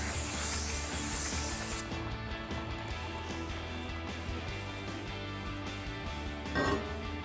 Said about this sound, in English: So you can get some brake cleaner and a clean microfiber towel to spray this down and wipe it.